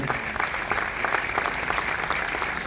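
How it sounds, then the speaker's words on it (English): A crowd aboard the cruise ship Celebrity Beyond claps steadily and densely, a full room of applause with no pauses, loud and close throughout. "She deserves a big round of applause."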